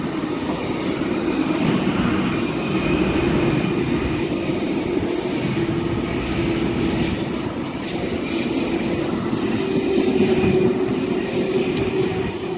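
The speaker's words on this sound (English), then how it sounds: "while we have K72 arriving on platform number 1" A Sydney suburban train pulls in at a station platform, a steady loud rumble of wheels and motors with a faint high whine, continuous throughout with no talk.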